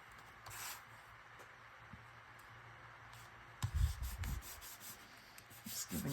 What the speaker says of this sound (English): Just giving a little rub down so that it'll transfer the ink